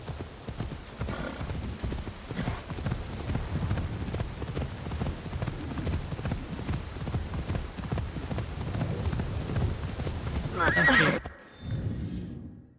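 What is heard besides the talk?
horse hooves and neighing in a video game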